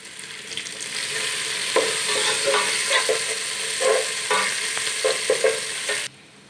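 Green chili paste sizzles and fries in a hot pan while being stirred for chana pulao, a steady loud crackle with scraping stir strokes throughout, cutting off abruptly near the end.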